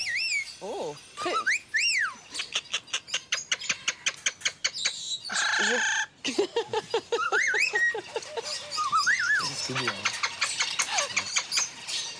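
Two Amazon parrots vocalize close by, trading rapid rhythmic squawks, sharp whistles and rising squeals in irregular bursts, with a brief gap partway through.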